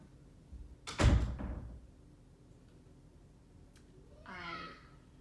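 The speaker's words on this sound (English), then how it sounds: "Close the door." A door shuts with a single solid thud indoors, followed by quieter household movement and a brief scrape a few seconds later.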